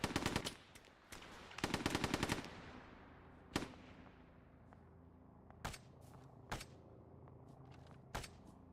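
Rapid bursts of aircraft gunfire from a Corsair on a strafing run, first two dense volleys then several single sharp cracks, loud and echoing over a low steady engine drone.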